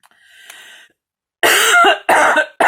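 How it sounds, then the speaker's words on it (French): A woman gives a faint short cough, then after a pause a series of three loud, harsh, close coughs in quick succession. "par la toux."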